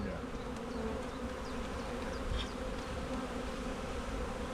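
Honeybees from a calm nuc hive buzz steadily in a dense outdoor drone, with individual bees passing close now and then.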